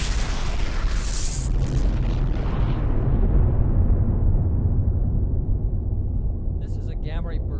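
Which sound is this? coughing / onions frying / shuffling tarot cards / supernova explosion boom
supernova explosion boom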